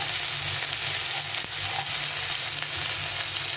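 A cut tomato sizzles steadily in a hot pan, a loud, continuous frying hiss with a faint scrape partway through and no talk.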